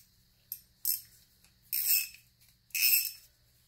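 A ratcheting tap wrench is turned by thumb while a tap is started in a bolt hole, giving a few close, crisp clicking bursts with short quiet gaps and no talk.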